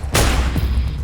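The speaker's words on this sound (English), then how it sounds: "A gunshot!" A single loud, close gunshot in the game Metal Gear Solid 4, a sharp blast that decays into a brief rumbling echo within about a second.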